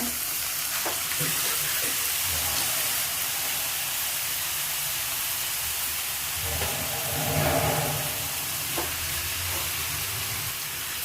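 A grated mixture cooks in ghee in a pan on a gas stove, giving a steady close sizzle and hiss throughout, with a few stirring scrapes and a brief louder swell near the end.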